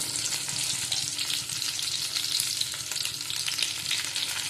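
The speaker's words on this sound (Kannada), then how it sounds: "ಪ್ಯಾನಲ್ಲಿ ಸ್ವಲ್ಪ ಎಣ್ಣೆ ಹಾಕಿದ್ದೀನಿ ಮೂರು ಗಡ್ಡೆ ಈರುಳ್ಳಿ ಹಾಕಿದ್ದೀನಿ" Sliced onions and green chillies fry in oil in a pan, giving a steady close sizzle and crackle with light stirring scrapes and no talk.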